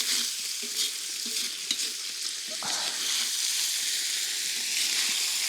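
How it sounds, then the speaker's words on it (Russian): Onions and meat frying in a kazan over a campfire, a steady close sizzle and crackle running throughout with occasional stirring scrapes, no voices. "И лук с мясом в казане на костре."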